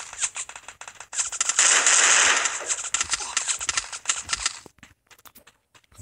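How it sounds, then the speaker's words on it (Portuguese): Rapid bursts of gunfire from behind a player in the Free Fire battle royale game, loud and rattling, peaking in a dense volley mid-clip before thinning into scattered shots. "Olha os caras atirando em mim pelas costas."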